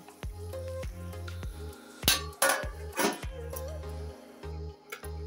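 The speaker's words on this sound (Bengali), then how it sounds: "এটা আমি এখন একটা ঢাকা দিয়ে ঢেকে দেব" A lid goes onto a cooking pot of rice pumpkin with drumsticks: a few sharp metallic clanks and clinks cluster in the middle, fairly close, over a low steady tonal background.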